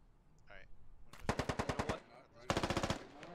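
Video game gunfire in the military shooter SquadOps: two rapid automatic bursts of evenly spaced shots, loud and close, the second burst shorter, with faint background sounds between them.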